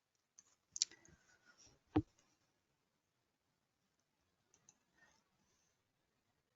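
A computer mouse clicks in RFEM 6 structural analysis software, a few faint, sharp clicks scattered across quiet moments, one louder than the rest.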